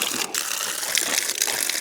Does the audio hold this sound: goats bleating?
no